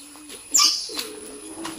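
Pigeons in a newly built 3x3 loft give a short soft coo, with a brief flutter or rustle and faint chirps, close by.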